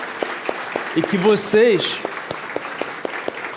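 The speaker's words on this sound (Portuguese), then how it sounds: "Eu queria que a gente aplaudisse o Senhor pela vida das mamães aqui dessa igreja." Church congregation clapping in steady, scattered rhythm while someone speaks over it, his voice rising briefly in the middle before the applause continues underneath.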